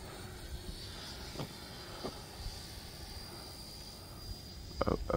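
A Freewing F16 90mm electric ducted-fan RC jet on an 8S setup makes a touch and go, heard as a steady distant airborne whine with faint rushing, plus a few brief thumps and a louder rise near the end.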